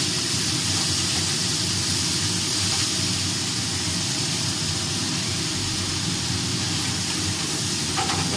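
Lentil dumplings (bori) frying with eggplant in a hot pan, a loud, dense, unbroken hiss of sizzling oil that fills the whole stretch with no let-up and no talk.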